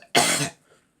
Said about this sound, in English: damn, I hate this cough.